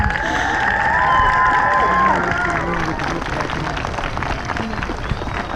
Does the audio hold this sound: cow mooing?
no